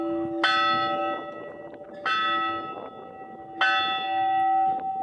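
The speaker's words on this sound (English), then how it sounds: "I took great pleasure in ringing the bell just to say that I've arrived" A bell at the hilltop hermitage of Gaztelugatxe rings three times in steady strokes, each bright metallic clang ringing on and decaying before the next, heard up close with no talking.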